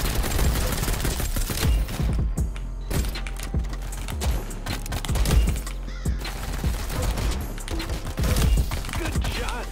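Gunfire in the video game Arsenal Reloaded rattles out in dense, rapid bursts of loud shots that overlap continuously throughout.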